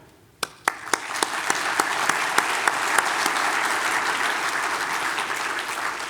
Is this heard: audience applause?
yes